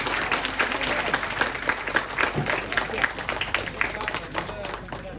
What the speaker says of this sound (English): a big round of applause for the Chief Guest, President and Guest of Honor